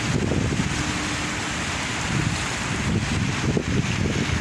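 Ballast water gushing strongly into a ship's cargo hold number 4, a dense, continuous roaring rush, steady and close without pauses, with no talking over it.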